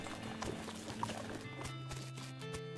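Horse hooves in the video game West of Loathing, a light clip-clop over steady game music, faint and a little muffled, with no talking.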